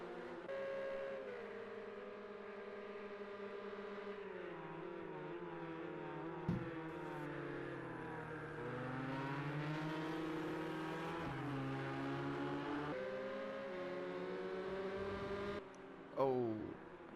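GT racing cars in a sim racing video game, engines whining and shifting pitch through gear changes as they run close together, with brief knocks near the end.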